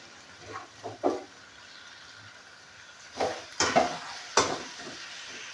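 Bengali chicken curry is sautéed in a pan, with intermittent scraping and stirring strokes and soft sizzling. Several quick clusters of spatula-on-pan sounds are separated by quieter stretches of low frying hiss.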